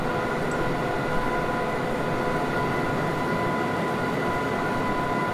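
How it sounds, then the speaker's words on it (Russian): A Deutsche Bahn BR 101 electric locomotive in Train Simulator 2021 runs at speed, giving a steady, loud rumbling roar with a faint whine and no talking. "Такой вот вполне себе мощный, быстрый, хороший поезд."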